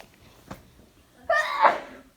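A child sneezes once in a classroom during a read-aloud story session, a sharp, fairly close burst midway after a quiet stretch with a faint knock.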